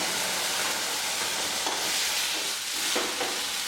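Onions, garlic and curry leaves sizzle steadily in a hot pan, with a few scraping stirs breaking through the constant hiss.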